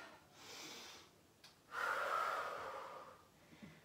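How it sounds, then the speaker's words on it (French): Heavy breathing during a strength workout: a long strained exhale, a short sharp intake, then a louder sustained puff of breath, close and fairly quiet with no talking. "je ne sais pas si vous m'entendez respirer"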